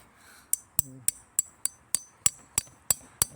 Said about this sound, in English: We're having to have to pound them with the hammer.